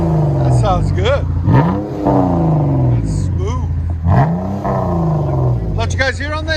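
Heard from inside the cabin, a 2015 Chrysler 200 S V6 with a Vibrant dual exhaust revs in several rising roars that drop back to idle, loud and close, with a voice talking over the engine.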